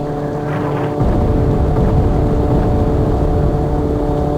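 A motorbike engine from the Sniper Elite video game drones steadily, with a low, harmonic hum that jumps louder after about a second and then holds a close, rumbling tone without any speech.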